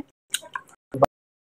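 Cut potatoes are washed and squeezed by hand in a bowl of water, giving a few soft, close squishy drips and splashes, with one louder wet squeeze near the end.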